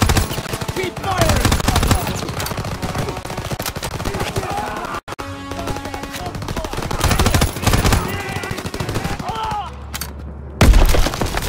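Machine gun fire in Call of Duty WWII, sustained rapid bursts rattling continuously and loudly across the scene, with shouting voices mixed in and a deep blast near the end.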